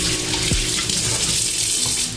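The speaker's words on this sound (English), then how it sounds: "So what I'm gonna do is rinse my hands real quick." Water runs steadily from a kitchen tap as hands are rinsed under it, a continuous close splashing flow with no talking.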